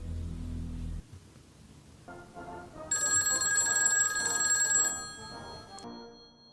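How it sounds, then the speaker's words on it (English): A telephone rings in a low-budget ghost shark movie, an electronic ringtone that rises and sustains for a couple of seconds before fading, following a low tone and with no talking. "he makes a phone call to..."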